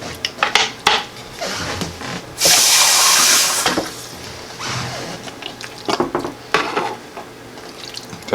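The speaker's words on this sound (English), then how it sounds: "I'm gonna put a can of water in here as well." A can of water pours into a container while cooking a meal in a Hot Logic portable oven, a few seconds of splashing amid clattering of metal, dishes and handling knocks, with no talking.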